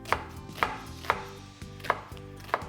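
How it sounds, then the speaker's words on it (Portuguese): A knife chops through an onion on a cutting board, five sharp, evenly spaced strikes, close and crisp, with no talking. "E agora uma dica para vocês cortarem a cebola de uma maneira mais fácil, eu faço assim, ó, 3 cortes na lateral"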